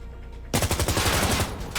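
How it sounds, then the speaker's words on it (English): Rapid automatic gunfire in a competitive first-person shooter firefight, a loud burst of fast shots starting abruptly after a short quiet moment and continuing to the end. "He goes for the shot, misses it, and Akil will get the wall bang"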